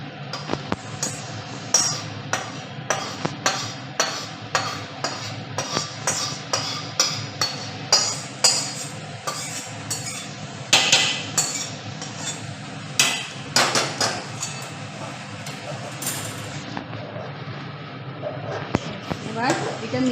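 Khichuri being stirred in a pan as spice paste is mixed in, with a steady run of sharp metallic clinks and scrapes of a spoon against the pan, close and fairly loud, under a low background hum.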